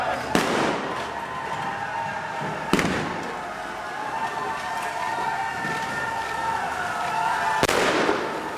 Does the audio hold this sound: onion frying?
no